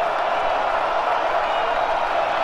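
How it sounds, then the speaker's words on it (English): The stadium crowd at Purdue's Ross-Ade Stadium roars during a Bowling Green at Purdue college football game, a dense, loud, unbroken wash of noise that holds steady throughout. "Rossade Stadium crowd making a lot of noise"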